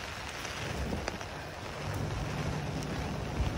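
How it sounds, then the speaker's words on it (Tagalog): Rain falls steadily at night in Hong Kong, a soft, faint, continuous patter with a few slightly louder drops, heard alone without voices. "Umulan pa rin."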